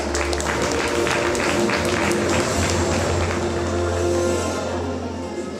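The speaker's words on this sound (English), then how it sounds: "Let's give him a big round of applause." Parents and guests at a school annual day prize-giving applaud in a sustained, loud wash of clapping over a low steady hum, fading slightly at the end.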